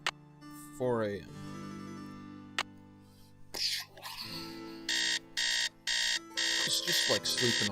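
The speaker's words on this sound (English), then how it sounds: "Alarm." A 4 a.m. alarm clock rings in the Nancy Drew game Treasure in a Royal Tower, heard as a series of loud, regular electronic beeps in the latter half. Before it come game sounds and a voice.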